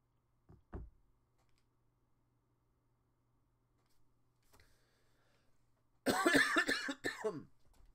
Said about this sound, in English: I'm sorry for all the coughing